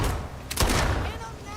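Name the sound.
gunfire in the video game Starfield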